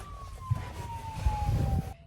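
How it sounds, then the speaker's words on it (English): A police siren wails with a steadily falling tone over low traffic rumble on Castle Island, moderately loud, cutting off at the end. "to the sound of cop sirens"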